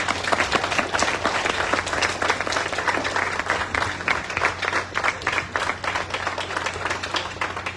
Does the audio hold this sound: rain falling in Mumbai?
no